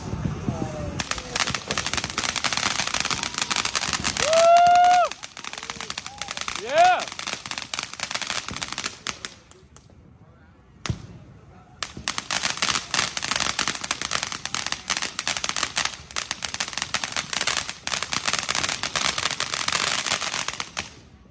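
Massive Fourth of July Independence Day fireworks in America crackle and pop nonstop in dense, loud rapid bursts, with whistling rockets rising early on and a brief lull midway; voices are faintly present in the background.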